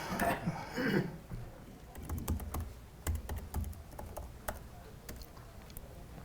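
Close keyboard typing: irregular clicks and taps of keys, some in quick bursts, following a brief muffled sound at the start.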